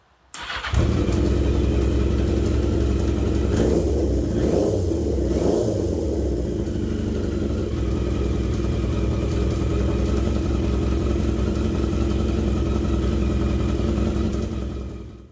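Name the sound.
40-year-old Yamaha motorcycle engine revving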